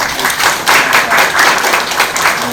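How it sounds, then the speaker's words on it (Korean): A church youth congregation at a Sunday service claps together in warm, steady applause, a dense close burst of many hands lasting a couple of seconds. "우리 감사의 박수 한 번 더"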